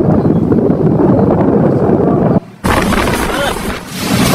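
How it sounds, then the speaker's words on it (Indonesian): Strong storm winds sweeping through Temanggung, a steady loud roar of gusts buffeting the microphone, briefly dropping out near the middle before surging back just as hard. "Temanggung badai."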